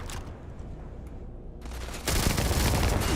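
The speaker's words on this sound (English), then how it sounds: "my shots explode though" Exploding gunshots in Starfield fire in a rapid loud burst, then a heavier blast of crackling explosions takes over near the end, no voices.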